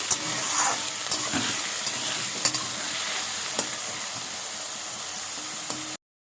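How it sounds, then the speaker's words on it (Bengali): Potatoes stirred and fried in a pan give a steady, close sizzle, with a few sharp scrapes and clicks of the spoon breaking through the hiss the whole way. "তো আলুটা দিয়ে একটু নেড়ে চেড়ে নেব"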